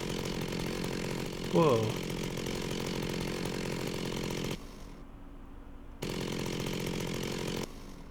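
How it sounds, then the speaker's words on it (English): A chainsaw runs steadily in a Minecraft Technic modpack, its droning buzz continuous and loud, briefly dropping then resuming, with a short exclaimed voice over it. "I can also use the chainsaw as a weapon"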